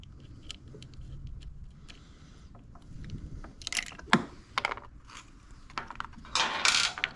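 Screws being tightened with a Phillips bit on a Westinghouse iGen4500 generator show up as close, irregular ratcheting and scraping clicks of metal tool on fasteners and housing, with a louder burst of handling clatter near the end.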